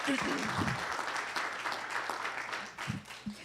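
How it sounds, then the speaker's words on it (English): Round of applause at a city council proclamation ceremony honoring Eagle Scouts, a steady wash of clapping from the audience that holds for several seconds, with a few low voices murmuring beneath it. "let's give a round of applause"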